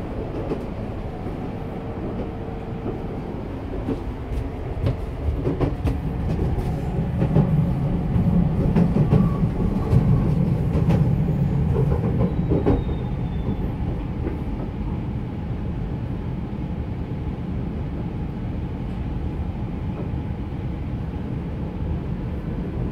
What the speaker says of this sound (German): Der Zug hält in Haitawan, Plansee.